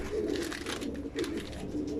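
Pigeons coo inside a coop, a low repeated throaty cooing from several birds close by, fairly loud, with no talk over it.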